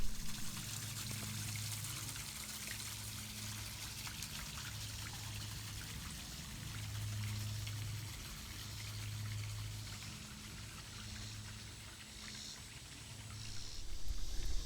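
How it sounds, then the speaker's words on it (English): A small waterfall trickles and splashes steadily into a castle moat, a continuous quiet outdoor flow with a faint low hum beneath and no voices. "a little waterfall going into a moat around the castle"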